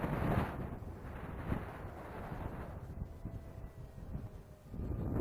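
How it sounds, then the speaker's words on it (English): Strong wind buffeting a microphone outdoors during a model jet flight, a continuous loud rumbling roar with gusty swells throughout, no speech. "sound of the wind"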